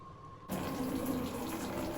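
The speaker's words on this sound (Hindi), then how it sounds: "अभी एक बड़े बकेट में पानी भर के ले रही हूँ मैं" Tap water gushes into a large bucket after a brief quiet start, a steady loud filling rush for making handmade paper pulp.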